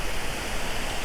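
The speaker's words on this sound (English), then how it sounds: "there's water gushing out of those sloughs" Water gushes from the sluices of the Three Gorges Dam in China, a steady, dense broadband roar that holds constant throughout without pause, heard from a distance.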